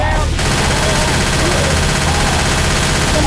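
Dense, loud gunfire from the Left 4 Dead 2 video game, a continuous volley of overlapping shots filling the whole moment, with a voice briefly audible at the start.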